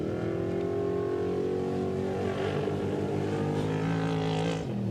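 A Class 1 desert race truck roars past during the San Felipe qualifier, a loud, close engine howl with rising and falling pitch as it sweeps by, heard alone without talk.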